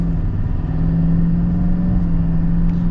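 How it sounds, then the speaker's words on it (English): A 2024 Chevy Silverado 3500 High Country pickup with its Duramax diesel engine accelerates, a steady, loud low rumble that holds strong and even throughout with a clear droning engine tone. "we'll get our acceleration here with the Duramax Silverado"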